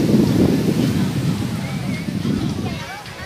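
Ocean surf washing onto a beach, a steady broad rush of breaking waves with wind buffeting the microphone, loud and continuous with slight swells in intensity.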